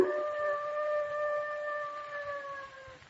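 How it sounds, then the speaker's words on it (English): A dog howls in one long, sustained, slightly falling note that fades toward the end, heard alone in an old radio drama. "That sounded like a dog howling"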